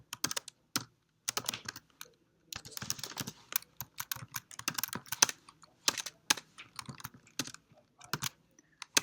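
Someone types on a computer keyboard while writing a script tag for a Firebase to-do list web app, producing bursts of close, crisp key clicks with brief pauses between words and lines.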